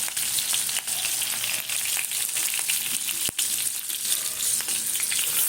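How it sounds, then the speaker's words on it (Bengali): Garlic and onion frying in hot oil for a meat curry, a loud continuous crackling sizzle with scattered pops and one sharp clink, close by and without talk. "ওই তেলের মধ্যে এইবারে দিয়ে দেবো পরপর রসুন দেব প্রথমে রসুনটা দেবো প্রথমে রসুন দেব তারপরে দেব পেঁয়াজ"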